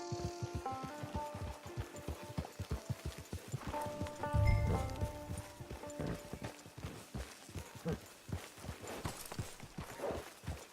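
Horse hooves clip-clopping in the video game Red Dead Redemption 2: a steady, rhythmic trot of close, clear hoofbeats running throughout, with a brief low thump partway and a faint musical tone in the background.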